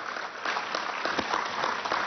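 Audience applause at a government event honoring an executive vice president, moderate clapping from a crowd heard somewhat distant and muffled, steady for about two seconds.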